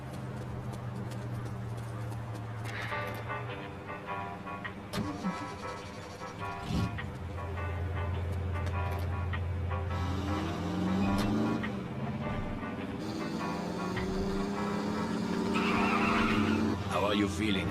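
Car engine revving and shifting with tire squeals while driving in The Saboteur, a 1940s-set game, with engine pitch rising and falling and speech layered over it.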